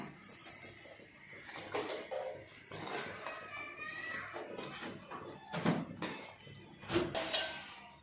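Manchurian ingredients being mixed in a bowl by hand, with soft irregular clinks, scrapes and wet squishes close by, fairly quiet and spread across the whole stretch.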